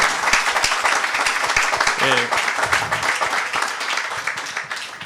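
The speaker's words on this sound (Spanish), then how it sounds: "Si le podemos dar un abrazo y un aplauso, mejor dicho, a todo el mundo, pues sería bueno" Audience applause at a talk on mutual aid in Puerto Rico, a steady broadband clatter of many hands filling the room, with a voice cutting through briefly partway.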